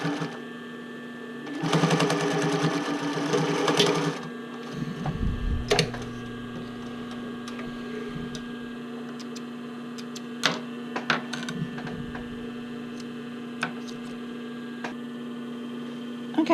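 Domestic sewing machine stitching fabric over bra elastic, a loud burst of rapid whirring stitches followed by quieter handling clicks and a steady low mains hum.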